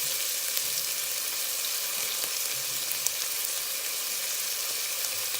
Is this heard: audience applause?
no